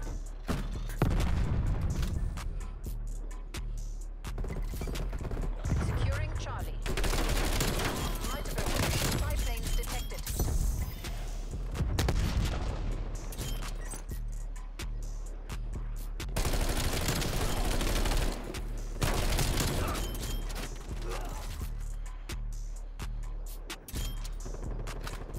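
Rapid bursts of Bullfrog submachine gun fire in the video game Black Ops Cold War, dense repeated volleys running almost continuously with brief gaps, over background game sounds.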